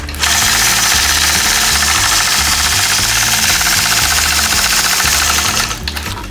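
A sewing machine stitches a quilt in a steady, loud, rapid mechanical rhythm as it runs along a machine quilting ruler, continuous for several seconds before stopping near the end.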